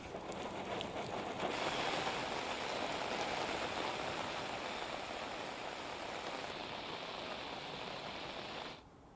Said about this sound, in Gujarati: તાપી જિલ્લામાં સતત બી વરસાદ વરસી રહ્યો છે